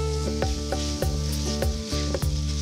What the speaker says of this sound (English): when you're frying the chorizo, you want to continue to break it apart.